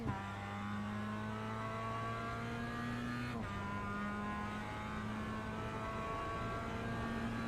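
Mazda MX-5 race car engine at Barber Motorsports Park, held at steady high revs in a continuous loud drone, with a brief dip and gear change partway through before climbing again.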